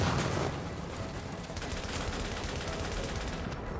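An automated turret fires in the video game Tom Clancy's The Division. The gunfire is a continuous, rapid burst of shots that sounds close and loud, with a heavier blast at the start, and no speech over it.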